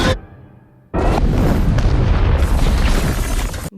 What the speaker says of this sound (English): What an explosion.